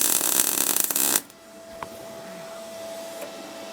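MIG welding of a joint with an R-Tech MIG181 digital welder at fast travel speed: a loud, steady crackling hiss that runs for about a second, then cuts off abruptly into a quiet room with a faint hum.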